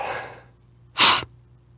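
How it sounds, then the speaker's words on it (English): A single sharp, explosive sneeze bursts out close by after a soft breathy intake, then quiet follows. "I was distracted by my sneeze"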